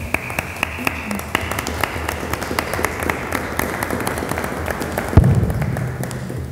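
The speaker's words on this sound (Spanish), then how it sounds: "brindarles un fuerte aplauso a esas mujeres" A crowd at a town council session applauds homemakers, scattered claps building into sustained clapping from many hands in a large room, with a brief thump near the end.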